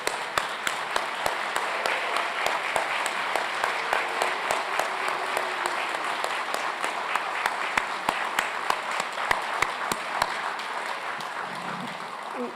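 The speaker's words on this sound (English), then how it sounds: "I'd like to ask the graduates to stand one more time for a big round of applause from the faculty" Sustained round of applause from faculty, staff and guests for Doctor of Physical Therapy graduates standing at a college convocation ceremony, dense steady clapping filling a large hall for about twelve seconds with no talk over it.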